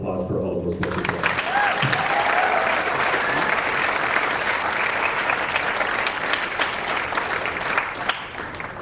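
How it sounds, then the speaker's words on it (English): An audience at a school choir concert bursts into loud, sustained applause that starts just after a brief voice and carries on densely for several seconds, thinning slightly near the end. "how about a round of applause for all of those wonderful people."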